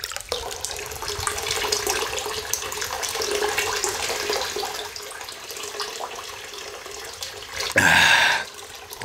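Water pouring steadily from a drinking well at a Japanese temple, a continuous close splashing rush under a quiet outdoor setting, with a brief louder gush near the end.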